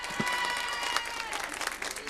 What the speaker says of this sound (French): Est-ce qu'on peut applaudir Awa s'il vous plaît?